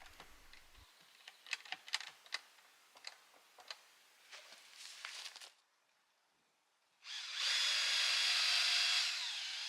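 Screws being driven into outdoor sauna wall boards, starting with a series of sharp clicks and taps, then after a pause a loud sustained whir from a power drill, near and alone.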